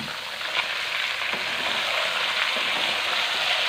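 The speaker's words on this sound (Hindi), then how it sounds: "यहाँ पे शामिल करेंगे चिकन को, और चिकन को हमने अच्छी तरह से फ्राई करना है" Chicken pieces frying in a pan with browned garlic and ginger for an Afghani-style chicken curry, giving a loud, steady, close sizzle with occasional stirring and no talking.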